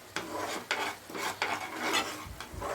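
Spoon scraping and stirring a paneer butter masala gravy in a pan, a series of rhythmic rasping strokes, close and fairly loud, with no voices.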